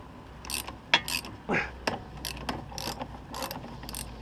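A spring compressor clicks as it is ratcheted off a Mini One strut, giving rapid, close, uneven ratchet-pawl ticks with occasional heavier metallic clunks over a low background hum.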